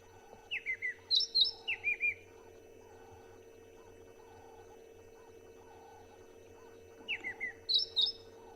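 A white-throated robin sings bursts of clear, whistled mimic notes, a quick run of four or five phrases, a pause, then another short run, over faint background hum.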